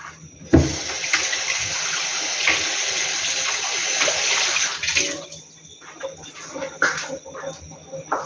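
Kitchen tap water running steadily as a measuring cup is rinsed before measuring flour for drop doughnuts, a close, continuous splashing rush that starts with a clunk and breaks into uneven splashes near the end.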